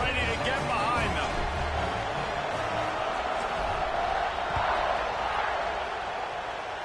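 Broad stadium crowd roar from a College Football 26 game on PS5 before a kickoff, a steady dense wash of cheering held at an even level throughout, with faint commentary-like voices mixed underneath.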